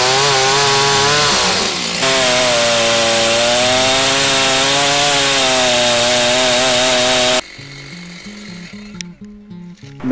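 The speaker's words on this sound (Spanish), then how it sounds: "todo eso tiene sus métodos con la motosierra" A chainsaw fells a tree, its engine droning loud and close with slight shifts in pitch as it bites into the wood, then cutting out abruptly, leaving a few uneven knocks and rustles.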